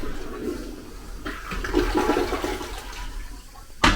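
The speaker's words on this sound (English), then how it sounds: "the toilet is plumbed, flushing, functioning toilet" A newly plumbed toilet at a self-built campground flushes loudly and close up, with a continuous gushing swirl of water that ends in a sharp clunk.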